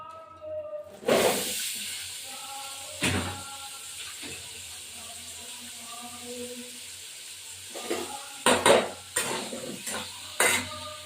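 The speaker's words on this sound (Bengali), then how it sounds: "এবার মানে আমি আলুগুলো দিয়ে দেবো আলুগুলো ভেজে ফেলবো" Potatoes frying in a pan: a soft, steady background sizzle broken by several sharp clanks and scrapes of stirring, close and fairly quiet.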